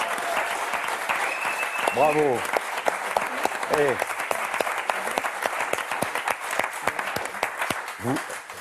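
Steady applause from a game show studio audience fills the room, dense and lively, while a voice calls out briefly over the clapping.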